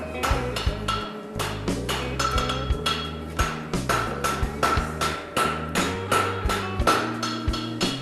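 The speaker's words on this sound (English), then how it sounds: "And the wedge is forged from behind into itself to wedge the material up. Forging the material to the centre." A hammer forges metal into a wedge with a steady run of loud, ringing metallic blows, about two per second, striking close by with no talk.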